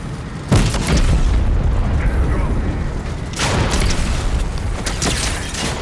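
Tank in the video game Fortnite, with a loud mechanical rumble and creaking tread noise, sharp booming impacts near the start and midway, and continuous heavy machinery sound throughout.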